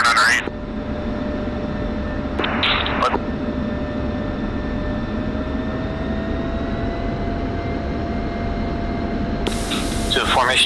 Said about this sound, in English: Do a formation takeoff here.